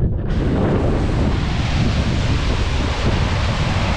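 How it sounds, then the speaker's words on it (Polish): Loud, continuous roar of high-tide water pouring heavily over a weir, with gusting wind buffeting the microphone throughout. "taki jest przypływ, że woda wali całą tamą"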